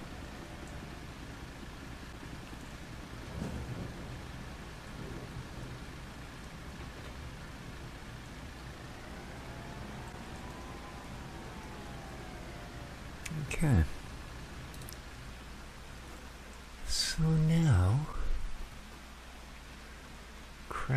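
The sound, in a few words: rain in Farming Simulator 25 video game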